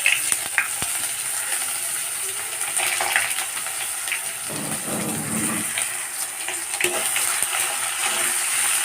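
Chopped onion dropped into hot oil for a fig curry, sizzling and hissing steadily up close while a spatula stirs with occasional scrapes and taps.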